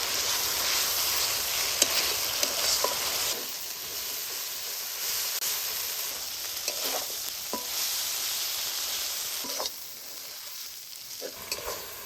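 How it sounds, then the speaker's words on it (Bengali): Water hyacinth leaves stir-fried with spices for a masala curry, giving a steady close sizzle and hiss with scraping stirs, loud at first and easing after a few seconds, with no talking. "এবার দিয়ে দিব ভাজি থা কচুরি পানা এবার মশলাটার সঙ্গে ভালো করে কষিয়ে নিবেন"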